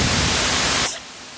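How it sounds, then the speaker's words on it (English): A harsh, loud burst of static-like hiss from the eraser tool in the video game Art Alive that cuts off abruptly after about a second, leaving a quieter lingering noise. "I wanna show you the sound the eraser makes."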